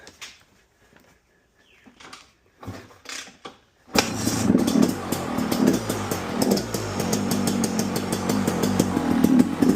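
An older KTM 250 EXC two-stroke dirt bike is kicked a few times with short thuds, then roars to life and settles into a loud, rattly, rapidly pulsing idle with blips of throttle.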